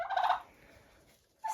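A turkey gobbling in short bursts, one loud rapid gobble at the start and another beginning at the end, close by with quiet between.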